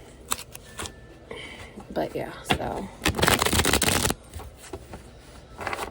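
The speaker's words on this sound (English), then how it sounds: "That was a damn good shuffle." A deck of reading cards is shuffled close up in several rapid riffling bursts, the longest near the end, with a person talking briefly.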